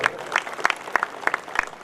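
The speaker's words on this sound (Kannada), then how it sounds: "ಪರಮ ಪೂಜ್ಯರಿಗೆ ಮತ್ತೊಮ್ಮೆ ತಮ್ಮೆಲ್ಲರ ಒಂದು ಜೋರಾದ ಚಪ್ಪಾಳೆ ಬಂಧುಗಳು" An audience applauds at a memorial anniversary gathering for the revered Sri Guru Rachoteshwara Mahaswamigalu, with sharp, fairly sparse claps close by for a short burst.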